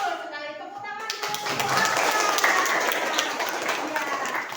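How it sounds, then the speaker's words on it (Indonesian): Students in a classroom break into a round of clapping after a correct answer in an Islamic history lesson. A teacher's voice is heard at first, then scattered hand claps build into moderately loud applause that continues to the end. "Tepuk tangan dulu."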